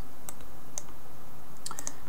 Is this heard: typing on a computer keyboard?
yes